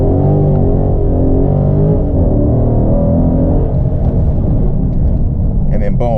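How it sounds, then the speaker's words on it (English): A Dodge Charger Daytona 392 leaving the line under launch control, a loud, dense low engine roar filling the cabin steadily for several seconds without pause. "That's how you launch the car properly."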